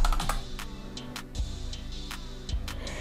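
Quick, irregular key clicks from typing on a computer keyboard as a Mojang account search is entered in a web browser, close and moderately loud over a steady low background hum.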